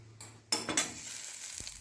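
Bay leaf and whole spices (cloves, cardamom, cinnamon) frying in oil in a pan, a soft sizzle broken by a couple of sharp clatters near the start, then steady light crackling.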